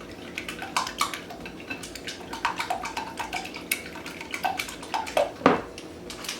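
Two eggs beaten with a fork in a bowl: quick irregular clinks and taps of metal on the bowl, close and fairly light, with one sharper knock near the end.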